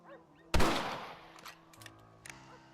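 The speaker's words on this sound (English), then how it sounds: "Your back's tense and it's making the rifle jump." A single rifle shot cracks loudly in the Red Dead Redemption video game, followed by a fading echo and a few faint clicks and small impacts.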